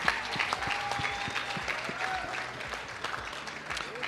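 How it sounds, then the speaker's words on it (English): Steady audience applause for a prize winner announced at a national ICT summit, dense clapping from a hall full of people, moderately loud, with a faint voice briefly audible over it. "Can we give her a round of applause,"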